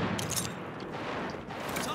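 Automatic gunfire in the video game America's Army: Proving Grounds, a dense, continuous burst of rapid shots that stays loud and crowded throughout, with noisy combat clutter around it.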